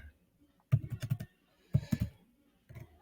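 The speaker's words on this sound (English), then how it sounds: "Please see what I'll be typing," Typing on a computer keyboard comes in three short bursts of close, clattering key clicks separated by brief pauses, with no voices.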